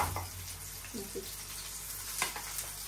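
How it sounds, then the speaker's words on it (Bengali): Cauliflower fritters crisping in hot oil in a pan, a continuous close sizzle with a few light clinks and stirs. "এই যে একে একে সবটা দিয়ে দিলাম, মুচমুচে করে ভেজে নিব"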